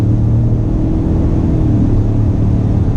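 A 2019 Ford F-150 Limited pickup accelerates hard, heard from inside a quiet cabin as a steady, muffled low engine rumble that holds even throughout with no speech.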